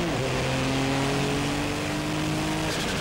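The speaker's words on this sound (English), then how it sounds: "The new Rothmans Porsche is let loose at Monza for the very first time." Rothmans Porsche 956 race car at Monza during the 1983 Monza 1000km, its engine droning at high, steady revs and heard continuously from close in-car, loud throughout with no talk.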